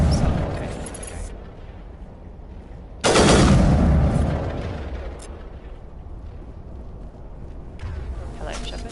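Assault rifle fire in the video game Mass Effect: a sharp, loud burst at about three seconds that decays over a second or two, with a later shorter burst near the end over steady background rumble.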